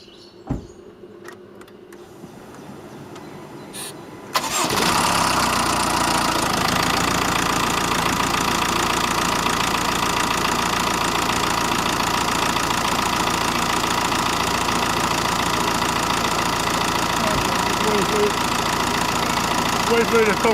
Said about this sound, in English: Time to crank it up. It's going to conk and crank, like that.